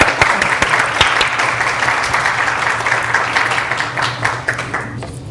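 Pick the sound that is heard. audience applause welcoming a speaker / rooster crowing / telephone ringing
audience applause welcoming a speaker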